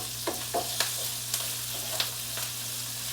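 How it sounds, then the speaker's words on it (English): Swiss chard sautés in a hot pan over medium-high heat, giving a steady close sizzle broken by a few soft clicks and scrapes of stirring. "And we're just going to let that saute nicely."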